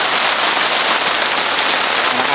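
Steady, loud rain drumming on a tent at a mountain campsite, a dense, even hiss with no pauses and no voices.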